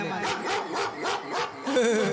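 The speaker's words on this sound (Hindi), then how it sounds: "एक कुत्ता भी भौंकने लगा।" A dog barks repeatedly in a steady rhythm during a Bihar stage show recording, the barks loud and close over a busy, reverberant background.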